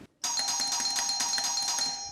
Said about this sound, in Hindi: कमाल है, इतनी बार डोरबेल बजाने पे भी